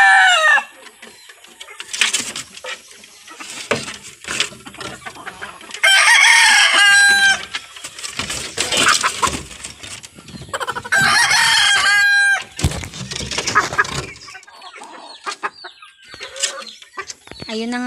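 Backyard chickens cluck and roosters crow loudly in repeated bursts, with softer clucking between the calls and a person speaking briefly at times.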